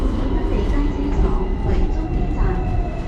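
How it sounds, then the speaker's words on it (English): Steady low rumble and rattle from inside a moving Hong Kong tram with hard wooden bench seats, continuous and fairly loud throughout, with faint voices underneath. "Okay, well that was taking the Hong Kong trolley."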